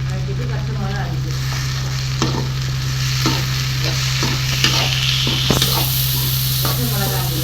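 Onions and tomatoes sizzle steadily in a hot pan while a spoon scrapes and stirs now and then, over a constant low hum.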